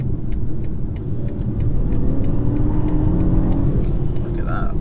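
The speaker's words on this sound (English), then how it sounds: "Nice response from the engine, even though it's a little 3-cylinder" A 2022 BMW 118i's small three-cylinder engine pulls hard from the cabin, a deep rumbling drone under a voice, with faint rhythmic ticking in the background.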